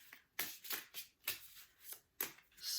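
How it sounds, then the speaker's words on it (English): A deck of oracle cards being shuffled by hand, close and fairly quiet: a series of short riffling swishes in an uneven rhythm, about six strokes, with no talking. "We will just do a little bit of a shuffle"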